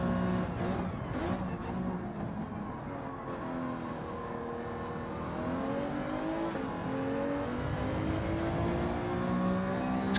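Alfa 155 race car engine howling around the Tsukuba circuit in Gran Turismo 7, a steady loud drone with rising and falling harmonic sweeps as it revs through gears, other cars faintly audible.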